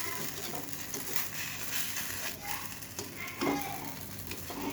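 A savory snack fries in a wok, giving an even, close sizzle and crackle with occasional louder pops, with no talking.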